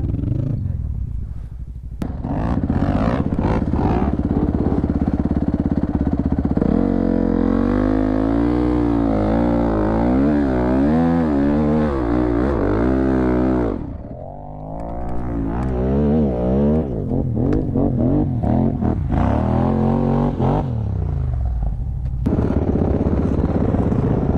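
A quad bike engine revs hard and steadily at a mine site, its roaring pitch rising and falling with throttle for a long stretch, close and loud, briefly dropping before climbing again.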